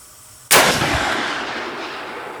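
A single sharp, loud rifle shot from a 1912 Winchester Model 94 lever-action in .30-30 being zeroed, cracking close by and trailing off into a long outdoor echo.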